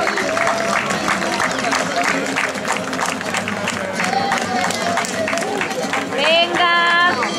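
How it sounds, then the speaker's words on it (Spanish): Loud crowd applause and cheering at the finish of a popular running race in Carballedo, steady and dense throughout, with an announcer's voice cutting through near the end. "¡Ese fortísimo aplauso!"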